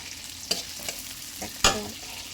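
Two chopped onions hit a hot pan, giving a faint steady sizzle broken by a few sharp spatula scrapes and knocks against the pan.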